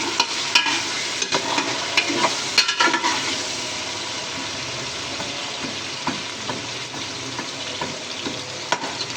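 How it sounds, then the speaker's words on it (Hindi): Ginger garlic paste sizzles and fries in a pan as it is stirred, with a steady loud crackle and frequent scraping taps of the spoon throughout, no voices. "इसके अंदर सारा अदरक लहसुन का पेस्ट डाल दिया है। अब इसको थोड़ा मिक्स करेंगे"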